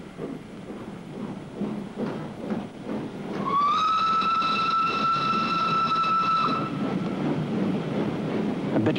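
A train crosses a newly built railway bridge with a steady rolling rumble, and a long, sustained whistle blast rings out midway for about three seconds before the rumble carries on.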